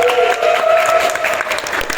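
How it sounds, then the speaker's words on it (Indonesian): An audience applauds Pak Nowo at the close of a live comedy podcast event, with steady crowd clapping and a voice carrying over it. "Tepuk tangan untuk Pak Nowo"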